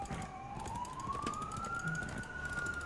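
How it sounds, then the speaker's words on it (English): An ambulance siren in the video game Heroes of the Storm wails in one smooth rising sweep, fairly faint and heard alone without talk. "ambulances can hear just how much Raynor is hurting outside, so they're coming to get me"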